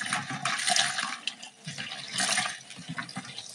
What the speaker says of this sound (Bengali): সেজন্য হচ্ছে মসুর ডালটা একটু ভিজিয়ে রাখছি